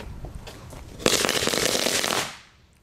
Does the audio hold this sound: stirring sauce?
no